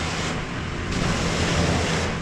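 A worker hoses down a paved area at a seaside resort in Palmanova, Mallorca, giving a loud, steady spray hiss that surges partway through, with no talking.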